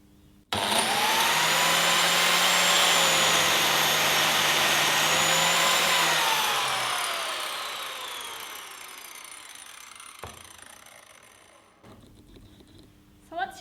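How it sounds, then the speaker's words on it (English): Biscuit joiner running up to speed and plunging its blade into wood, a loud steady high-pitched whine that holds for about six seconds, then winds down and fades, followed by a few faint knocks. "you can push the back of the machine forwards, and the blade will come out and cut the inside of the wood"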